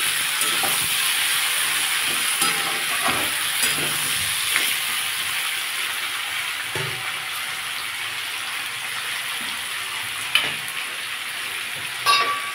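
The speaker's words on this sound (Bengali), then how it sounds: "আর সবজিগুলো অনেকটা ভাজা হয়ে গেছে।" Potato and cucumber pieces fry in a pan with a continuous close sizzle, broken by occasional clinks and scrapes of stirring.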